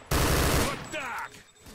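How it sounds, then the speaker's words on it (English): Gunfire in the video game S.T.A.L.K.E.R. Misery: a loud burst of rapid automatic shots opens abruptly and rings out for about half a second, then fades into echoing tails and quieter distant reports. "Trying to figure out what these guys are shooting at."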